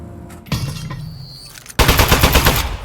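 Gunshots in the video game Aperture Desk Job, a burst of rapid loud blasts following a shorter shot and quieter mechanical sounds, with no talk.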